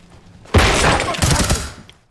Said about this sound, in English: I'm gonna flashbang. Flashbang.